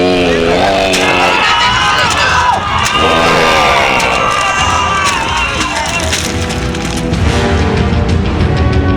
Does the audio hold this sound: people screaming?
yes